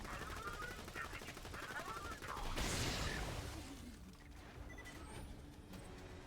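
Gunfire in the video game Borderlands 2: a rapid stream of loud shots builds to a heavy burst, then fades to quieter mechanical game sounds, with some voices underneath.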